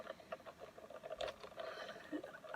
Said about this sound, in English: this rain is really... Is it hailing?